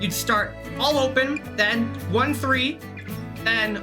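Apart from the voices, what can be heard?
No everyday noises stand out.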